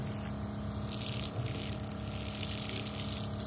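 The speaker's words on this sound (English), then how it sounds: "pump kicks on, water's going, turn the switch off" Water pump on a tractor-mounted IBC tote watering setup runs steadily, a continuous low motor hum under rushing water flow, close and constant.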